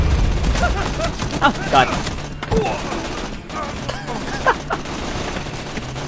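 Rapid volleys of gunfire from a wall of mounted guns in a video game, sharp repeated cracks and thuds in bursts across several seconds, mixed with a player's exclamation and other game sounds.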